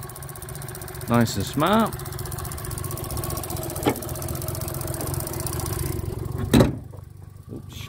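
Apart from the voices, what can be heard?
small three-cylinder twin cam car engine running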